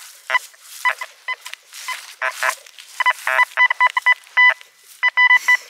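A metal detector sweeping a lakeside beach gives rapid electronic beeps and chirping tones, one signal after another in quick bursts, with no talking.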